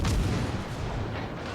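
Warship naval guns firing in World of Warships Legends, a heavy booming blast that decays into a low rumble, loud and close with no talk.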